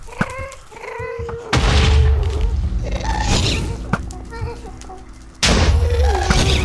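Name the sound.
Minecraft ghast shooting fireballs, from a video game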